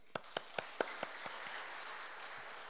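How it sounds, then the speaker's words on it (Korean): A church congregation clapping at a Sunday afternoon service: several distinct, evenly spaced claps that blur into a faint, distant patter of applause. "주님께 영광의 박수."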